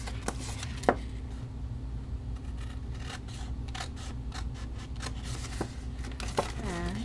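Scissors snip through cardstock for a Stampin' Up! box project in a series of close, crisp cuts, with some paper rustling between them. A voice is faintly present now and then.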